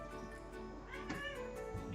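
A cat meows once or twice, fairly close and moderately loud, over a constant background hum with no talking.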